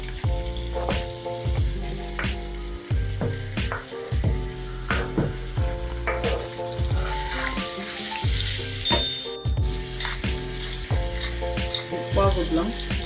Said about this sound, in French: Pendant que je grille la viande, je découpe les choux.